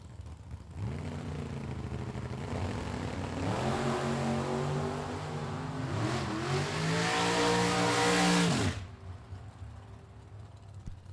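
Drag racing at the World Super Pro Challenge, an Oldsmobile Calais against another car: engines rev through rising gear pulls in a loud, sustained roar for about eight seconds, then cut off abruptly to quiet crowd ambience.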